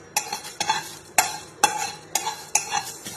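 Whole spices being lightly dry-fried in a pan for grinding, heard as about seven crisp, evenly spaced scrapes and knocks of a spatula against the metal, close up, with only a faint sizzle between strokes.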